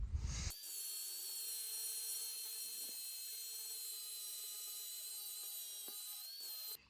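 A power tool sharpens the worn blades of a KingKutter bush hog mower, giving a steady, high-pitched whining grind that holds for several seconds before it cuts off, near and loud with no talk.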